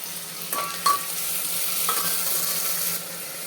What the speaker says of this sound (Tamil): சீரகம் பொடியையும் நம்ம தேவையான அளவு மிளகாய் எல்லாத்தையும் போட்டு வதக்கிக்கலாம்